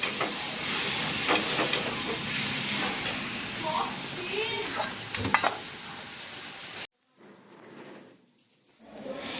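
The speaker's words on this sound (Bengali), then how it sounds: "আর এই যে ছোট কাকু চপ ভাজছে।" Chop cutlets deep-fry in a pan for a New Year's Day celebration meal, a loud hissing sizzle close by with scattered clinks and background voices, then the sound cuts out abruptly before a faint return.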